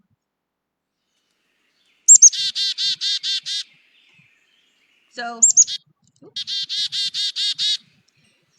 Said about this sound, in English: They also, for the black-capped chickadee, it can sound something like this.